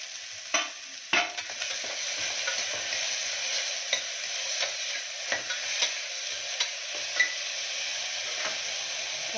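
Bottle gourd, capsicum, carrot, tomato, peas and curry leaves frying in a pan, with a steady sizzle and scattered scraping stirs from a utensil close by.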